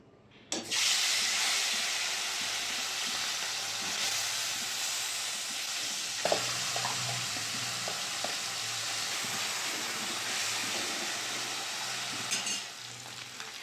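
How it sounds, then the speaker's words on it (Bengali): Small chuno fish frying in hot mustard oil in a kadai, a loud, close, continuous sizzle that bursts on as the fish go in, with occasional stirring clinks and no talking. "মাছগুলো তেলের মধ্যে দিয়ে দেবো।"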